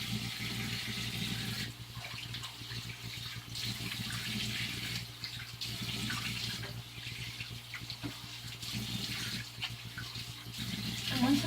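Tap water runs steadily into a sink while a face is rinsed, a continuous hiss with small shifts in flow and splashing, close and moderately quiet, with no talking.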